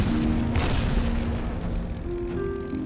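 Bombs explode in the aerial combat game Warplane Inc., with low booming blasts over a dense wash of engine and battle noise. A tonal whine and faint beeps sound in the background.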